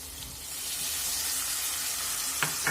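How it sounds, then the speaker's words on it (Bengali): Spice paste with salt and water being fried down in a pan for a vegetarian soybean and chana dal curry, giving a steady broad sizzle with a couple of short clinks near the end. "এই মশলাটাকে একটু কষাবো।"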